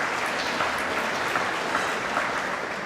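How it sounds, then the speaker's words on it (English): An audience at an annual chamber of commerce dinner gives sustained applause, a dense steady wash of many hands clapping throughout, close and fairly loud with no speech over it. "I just want to clap for you all"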